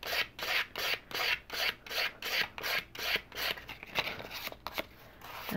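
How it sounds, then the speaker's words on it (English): A hammered copper pin is sanded by hand with 800-grit sandpaper, giving rhythmic rasping strokes about two per second, close and fairly quiet, the strokes growing shorter and less regular toward the end. "we're going to start with 800 grit and start smoothing that out"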